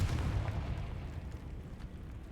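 A Confringo blasting spell bursts in Hogwarts Legacy, a heavy low rumbling explosion that hits at once and then rolls off slowly in a dull, booming decay with no voices over it.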